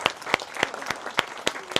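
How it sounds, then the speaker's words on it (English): Scattered clapping from a small audience at a tenth-anniversary presentation, sharp separate claps in a loose rhythm, close and moderately loud. "Let's give Gina Fine a round of applause."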